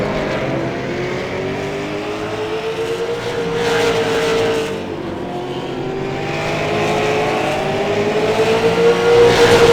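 Pro late model stock cars racing at Lanier National Speedway in a sim racing game, a pack of engines droning and rising in pitch together, loud and continuous with shifting whine as cars pass.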